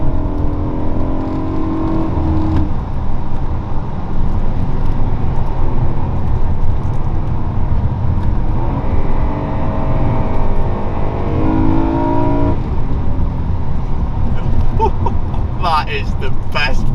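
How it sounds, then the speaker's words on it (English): A BMW E92 M3 with a V8 and eight individual throttle bodies roars through its intake under hard acceleration, a loud continuous rising note with gear changes, heard from inside the car while someone talks over it. "That intake noise, you don't even need to worry about what's going out that end."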